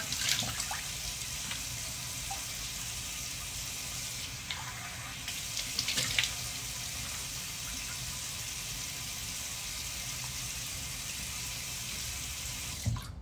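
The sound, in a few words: water running from a tap while washing face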